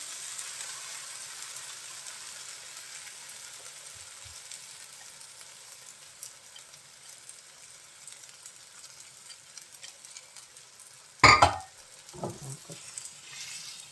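Beaten eggs are poured over mushrooms frying in a pan, giving a soft, steady sizzle with faint crackles, then a sharp clatter and a few scrapes near the end.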